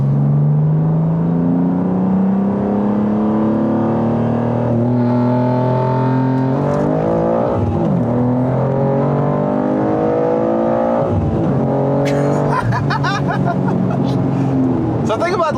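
Tuned BMW S58 straight-six in a G87 M2 or G80 M3 pulling hard in second gear with anti-lag, loud close engine roar climbing in pitch through quick gear changes, with crackles and pops near the end and talk underneath.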